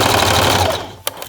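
A sewing machine stitches a seam on baby pants, then reverses to backstitch: a dense, rapid mechanical whir that stops, followed by two short, sharp bursts.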